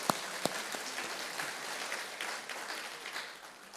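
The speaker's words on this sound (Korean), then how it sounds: "박수 한번 합시다." Church congregation clapping their hands during a worship song, a few sharp claps at the start giving way to a steady, fairly quiet patter of clapping.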